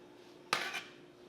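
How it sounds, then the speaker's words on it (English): Raw chicken breast dropped into a frying pan while making teriyaki lettuce wraps gives one sharp clatter and brief sizzle burst, close and fairly loud, then fades into quiet room tone. "I'm going to toss it in my frying pan."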